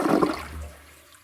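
A Glacier Bay toilet flushes up close in a bathroom, a loud watery rush that quickly tapers into a fading swirl and drain with no voices.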